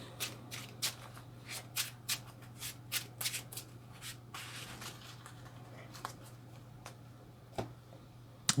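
Marvel Champions game cards are shuffled by hand, giving a run of crisp, close riffle bursts in a fairly regular rhythm that thins out toward the end over a faint constant hum.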